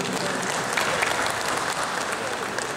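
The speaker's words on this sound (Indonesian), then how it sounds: "Tepuk tangan sekali lagi buat Pak Bupati." An audience at an inauguration ceremony for a regional family association in Tualang claps in a dense, steady burst of applause that is close and even throughout.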